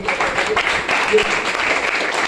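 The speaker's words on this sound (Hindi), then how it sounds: "जोरदार ताली होनी चाहिए इनके लिए" Applause from a seated audience at a wellness products talk, a brief, dense burst of clapping filling the room at moderate loudness, with a little voice noise mixed in.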